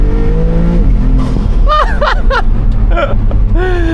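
A loud Maserati GT2 Stradale engine revs and roars close by, pitch climbing and dropping through rapid throttle blips and gear changes.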